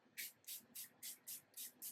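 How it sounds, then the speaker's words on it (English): A makeup setting spray is pumped close by in seven quick, evenly spaced bursts, each a short airy hiss, in an otherwise quiet room. "I'm gonna use some of this setting spray, the one size."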